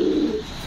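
Fancy pigeons at a pigeon farm, a single short low coo rising close by for a moment and then fading into the background.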